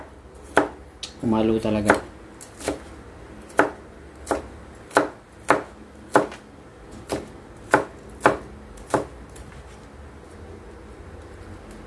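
A knife chops garlic into small pieces on a board for pork tapa, about a dozen crisp, evenly spaced chops with a short spoken phrase early on.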